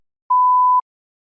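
A single steady electronic test-prompt beep at a fixed mid pitch, lasting about half a second, clean and alone against silence.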